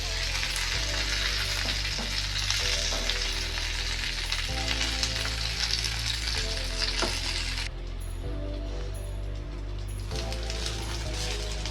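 Vetki fish paturi frying in a covered pan, a steady close sizzle with clatter as the lid comes off and the parcels are turned, the frying continuing unbroken throughout.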